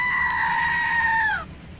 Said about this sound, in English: At least now I got you a screaming goat for your office